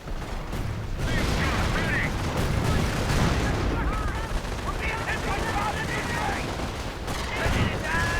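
Dense machine gun fire and explosions in a WWII strategy video game battle as a heavy machine gun team is overrun by StuGs, steady and busy throughout, with a commentator talking over it.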